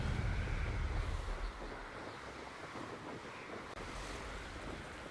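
Water in the game Hogwarts Legacy, a steady rushing wash like surf or wind over open water, loud at first and then settling into a constant hiss, with no one talking.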